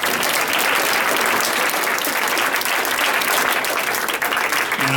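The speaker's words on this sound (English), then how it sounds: "let's give them all a big round of applause here." Dense, loud applause from an audience at a school parent breakfast, continuous clapping filling the room for about five seconds, with a voice starting faintly at the very end.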